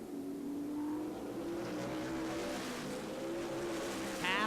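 Race cars lapping at Angola Motorsport Speedway during a 50-lap race, a steady droning engine roar from a distance with rising and falling pitch, alone without commentary.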